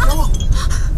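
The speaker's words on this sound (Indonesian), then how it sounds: "botol itu langsung pecah terlepas dari tangannya Meghna" A glass bottle of holy water shatters as it slips from a woman's hand, a brief bright clinking break under a dense, loud backdrop of music and voices.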